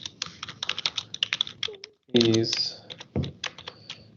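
Rapid, uneven keystrokes on a computer keyboard as code is typed in a programming lecture, sharp clicks running steadily with a short pause, and a few spoken words in between.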